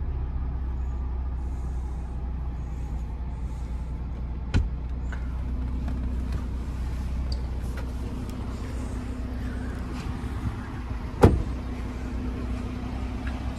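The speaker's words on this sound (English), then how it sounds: "it opens the valves of the exhaust. So you can see it has very good sound." Audi RS3 limousine facelift sedan, 400 hp, with exhaust valves open in dynamic mode, a steady low engine and exhaust drone heard from inside, with a couple of brief sharp clicks or knocks partway through.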